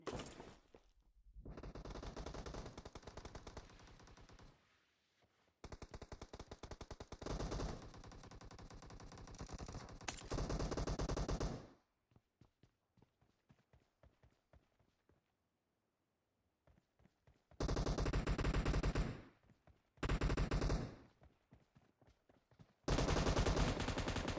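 Rapid automatic gunfire and single shots from a team-based shooter video game, heard in loud dense bursts separated by quieter stretches of sparse isolated shots.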